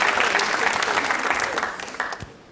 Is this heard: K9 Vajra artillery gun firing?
no